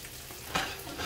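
Quartered vegetables go into a hot frying pan and sizzle, a close steady hiss with a brief stirring clatter partway through, no voices.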